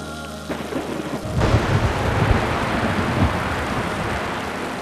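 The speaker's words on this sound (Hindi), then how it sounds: "मौसम बहुत तूफानी हो रहा है।" A low rumble of thunder rolls in over steady rain, deep and close, with the rain continuing to patter after the rumble fades.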